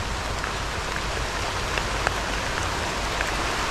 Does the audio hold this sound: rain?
yes